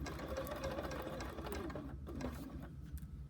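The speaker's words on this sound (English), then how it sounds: "I'm just gonna sew in between the pins" A sewing machine stitches quilt pieces between pins, humming and whirring steadily up close before slowing near the end.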